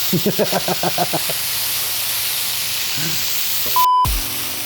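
A steady broad hiss of Wagyu picanha slices searing in a hot pan fills the clip, with brief voice-like sounds early and a short beep near the end.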